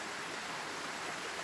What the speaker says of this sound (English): waterfall behind me.